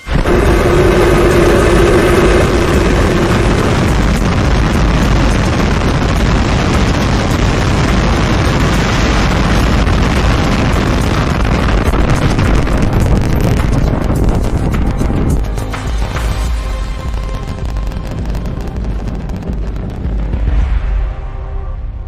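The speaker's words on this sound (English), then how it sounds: "We have liftoff." A SpaceX Starship rocket at liftoff gives a loud, continuous roaring rumble with crackling texture that holds for about twenty seconds, then thins and fades slightly toward the end.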